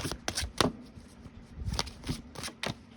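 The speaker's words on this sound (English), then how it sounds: "I'm going to try to live shuffle, but I might have to take it below camera if they slide out." A slippery Phantom Tarot card deck shuffled by hand, giving a run of crisp, irregular riffling bursts and soft slaps of card on card, close up with a quiet room behind.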